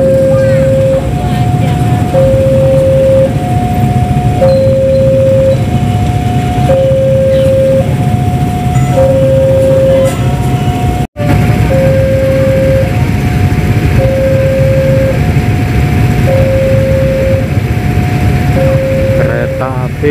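Railway level crossing alarm at Lempuyangan station in Yogyakarta, a loud steady two-tone ding-dong bell repeating throughout over low rumble of the approaching train and traffic, with a brief dropout midway.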